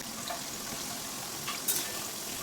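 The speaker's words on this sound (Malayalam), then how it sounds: "എല്ലാം ഇളക്കി കൊടുക്കാം" Jackfruit chips frying in hot oil, Kerala style, give a steady close sizzle and bubbling, with a brief sharper crackle near the end as the pieces are stirred.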